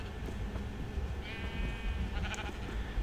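A sheep bleats in a blocky survival video game, one wavering bleat in the middle followed by a brief higher call, soft against low background noise.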